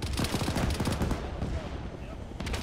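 Rapid bursts of gunfire sound close and loud in a military video game, fired over a teammate's head, with dense automatic shots in quick succession and a voice heard faintly under the shooting.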